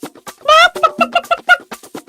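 A hen clucks in a quick series of short, bright calls with one longer squawk, close and loud, in an animated children's fairy tale set at a farm exit.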